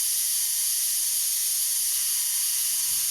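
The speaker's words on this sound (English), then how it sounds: "there goes the pop valve" Steady, loud steam hiss from a steam locomotive pop valve played by an N scale DCC sound decoder, continuing unbroken without any variation.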